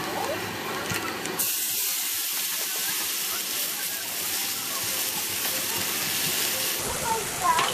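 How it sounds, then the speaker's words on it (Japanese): Sesame-oil-sautéed carrots and burdock, lightly salted and peppered, get a sauce of mentsuyu, mirin and water poured over them in a hot frying pan, setting off a loud, steady sizzling hiss that starts after a second and runs on unbroken. "めんつゆとみりん、水を入れたタレを回しかけます"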